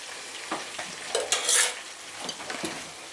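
Soft sizzling of pike frying in a pan with occasional scraping and clinks of a utensil stirring, close by and fairly quiet, outdoors in Yakutia.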